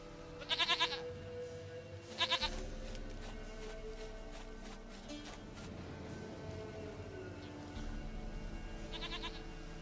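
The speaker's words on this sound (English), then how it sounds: "Goat of mine! Dearest, sweetest goat!" A goat bleats in The Witcher 3 game world: three short, wavering bleats, moderately close, spaced several seconds apart over a low ambient hum and faint rustling.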